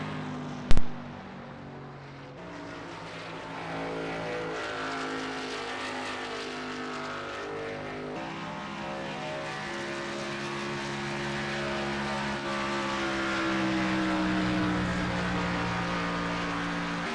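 A race car engine on a warm-up lap, a sustained drone that holds and shifts pitch across the whole stretch, swelling gradually louder toward the end, with a single sharp click near the start.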